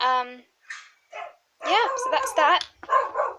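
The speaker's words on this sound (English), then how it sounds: "I'm sorry about the dog. She's really woofy happy" A pet dog indoors lets out a few excited high yips and barks in quick bursts, loud and close, mixed in with a woman's speech.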